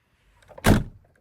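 A door swings shut with a single short thud, preceded by faint rustling and followed by quiet.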